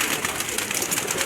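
Domestic pigeons kept on a rooftop give off a steady soft bed of cooing and wing rustle, close and continuous for a brief moment with no talking.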